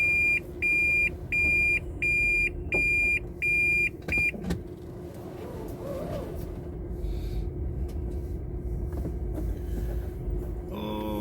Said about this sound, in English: We are in the car wash bay right now.